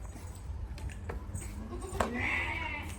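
Sheep bleating in a pen, a few short calls close by over a steady low rumble, one louder bleat rising near the end.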